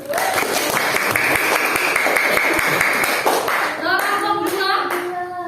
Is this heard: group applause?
yes